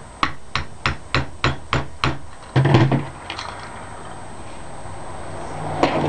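Light tapping on a pin in a metal watch band link: seven evenly spaced sharp taps, then a brief rattling scrape and one last faint tap, close and clear.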